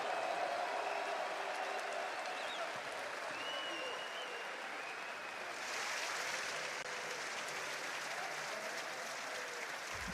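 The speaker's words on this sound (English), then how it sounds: "Un tonnerre d'applaudissements, s'il vous plaît." At an esports major in Paris, a large arena audience applauds continuously, a dense wash of clapping with cheering and crowd noise, steady for ten seconds at a moderate level.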